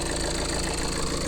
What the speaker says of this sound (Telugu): ఇంజన్ సౌండ్ మాత్రం ఇట్లా ఉంది సార్.